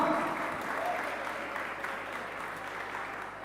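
Steady audience applause at a youth Christmas celebration in a church in Pekanbaru, a dense wash of many hands clapping continuously, moderately distant and even throughout.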